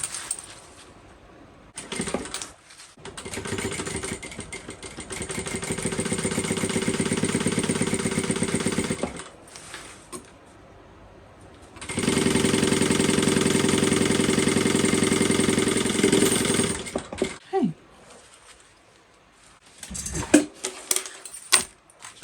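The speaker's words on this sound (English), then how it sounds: "we're just going to sew this on" A sewing machine stitching bucket bag pieces runs in two long motor bursts of rapid, even stitching, each lasting several seconds and separated by short pauses with faint handling clicks and fabric rustle, close and fairly loud.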